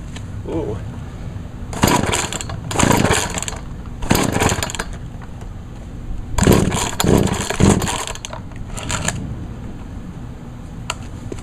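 Poulan 2075 chainsaw with a freshly repaired carburetor, its engine revving in several loud bursts that rise and fall over a steady idle.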